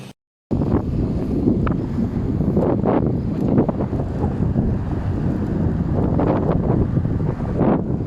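Strong wind buffets the microphone in a continuous low roar with gusty rumbles, starting abruptly after a brief silence, on a Sierra Madre mountain loop road near Boso-Boso.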